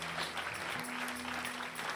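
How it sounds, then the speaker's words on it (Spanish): Loud, steady applause fills a church service, dense and continuous for two seconds, with a sustained low tone, likely music, running beneath the clapping. "Fuerte el aplauso."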